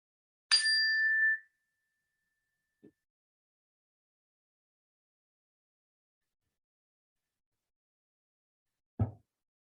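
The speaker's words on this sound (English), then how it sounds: "when you hear the sound of the bell" A meditation bell is struck once, giving a clear, bright ring that fades within about a second. Near-silence follows, broken only by a tiny tap and a soft low thump near the end.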